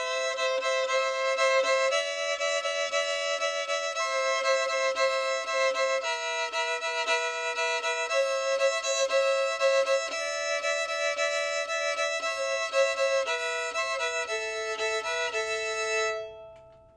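Fiddle melody bowed over a sustained open-string drone, the bright, steady notes shifting above a constant ringing lower tone, played alone at moderate volume until a clean stop.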